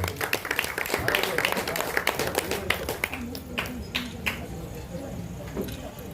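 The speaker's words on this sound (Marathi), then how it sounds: "सर्वांनी टाळ्या वाजवा" Audience clapping at a village news channel's anniversary and bhajan competition prize-giving ceremony, a dense patter of many hands that is loud early and thins out toward the end, with some talk mixed in.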